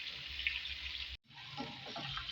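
Potato pieces frying in hot oil in a pan for egg biryani, a steady bright sizzle that cuts out briefly and resumes with stirring clatter, close and continuous, with no voices.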